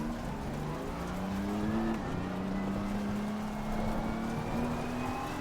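A race car engine hums continuously in Assetto Corsa Competizione, its steady drone slowly rising in pitch as the car rolls along, loud and close with no talk over it.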